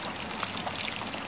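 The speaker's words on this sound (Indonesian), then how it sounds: "Kita penuhi dulu terus potnya sampai airnya meluap." Clean water pours into the pot of a freshly planted ficus microcarpa cutting, a steady, close splashing and trickling stream with no voices.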